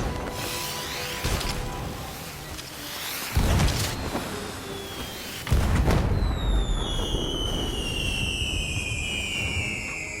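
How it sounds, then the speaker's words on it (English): Fireworks launch and burst in the video game Sea of Thieves: several booming thuds with crackling tails, followed by rising and falling whistling streaks, moderately loud over a busy background. "Fire the fireworks."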